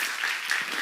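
Brief burst of clapping from a church congregation at a Korean seminar, a steady dense patter of many hands, moderately distant with no voices over it.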